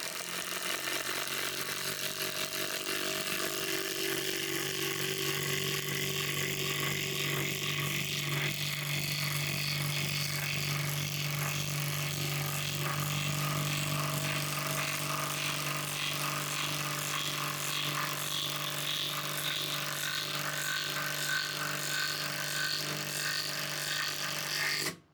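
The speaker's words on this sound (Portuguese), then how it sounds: "Bora tentar cravar aqui esse parafuso?" A Hanabi LJ2022 cordless drill-driver with a hybrid chuck, rated 55 Nm, drives a screw home with a bit, its motor whirring steadily and loudly for the whole stretch with no talk over it.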